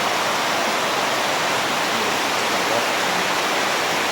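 Steady, dense hiss of heavy rain pouring down continuously at the entrance to Pranburi Dam, Prachuap Khiri Khan, Thailand, broadband and unbroken, with no voices or other distinct sounds.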